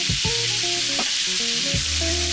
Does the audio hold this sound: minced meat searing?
yes